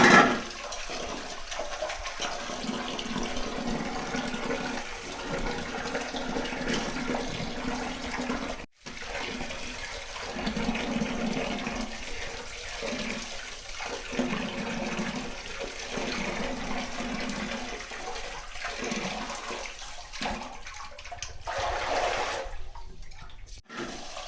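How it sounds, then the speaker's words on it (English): Tap water gushes steadily into a basin while fish are washed by hand, with splashing and sloshing surges, a brief break, and continued pouring until near the end. "This is final washing of the fish."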